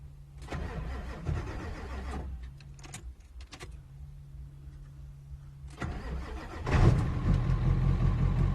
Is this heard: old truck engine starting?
yes